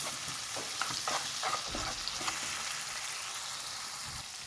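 Tomato paste frying in a pan, a steady close sizzle with soft stirring scrapes running through the whole stretch.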